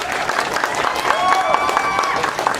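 An audience at a song launch claps to welcome the performer, a dense burst of applause mixed with crowd noise and a musical tone underneath.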